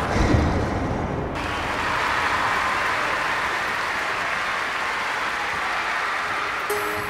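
Stadium crowd applauding a springboard dive in the video game London 2012, a dense, steady wash of clapping and cheering that sustains for the whole stretch.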